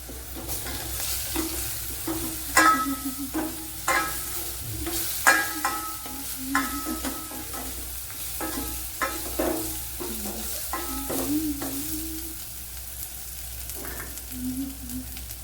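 Kerala-style rasam ingredients are stirred and fried in a pan, with a steady sizzle beneath repeated scraping strokes and clinks of a spoon against the pan throughout.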